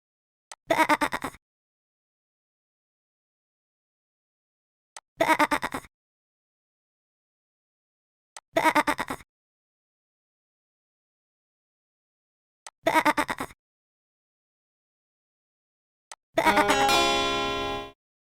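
Sheep bleat in a kids' animal video game, five separate bleats spaced about four seconds apart with silence between, the last one longer and more tonal, each clear and close.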